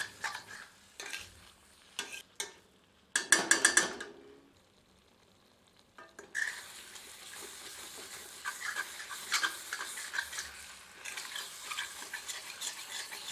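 Ladle stirring yellow chili chicken masala in a pot over a low flame, with faint sizzling and irregular scraping strokes, louder bursts in the middle and steady soft stirring toward the end.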